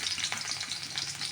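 Garlic sizzles in hot oil at the start of a Kerala-style red kozhuva fish curry. The frying hiss is steady and fairly soft, heard alone for a moment.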